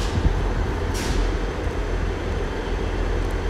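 A railway stone blower train passes through platform 5 at Exeter St David's station, producing a loud, steady, close rumble of wheels and engine that holds throughout, with a brief hiss near the start.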